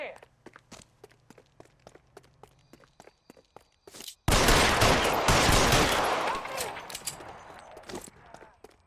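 Gunfire erupts in the detective game L.A. Noire: after a run of footsteps and shouted speech, a loud burst of shots and rattling fire breaks out and gradually fades.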